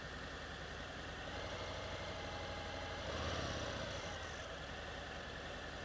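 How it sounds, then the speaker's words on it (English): A 2018 Harley-Davidson Fat Bob motorcycle engine idling steadily with a low, constant rumble and vibration, heard close and alone, swelling slightly for a moment midway. "The motor sounds pretty cocky."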